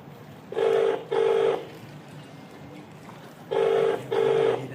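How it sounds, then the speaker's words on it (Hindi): A phone rings out in two double bursts, each pair of buzzy trills separated by a pause, heard fairly close against a quiet background. "उनको फोन करके देखती हूँ"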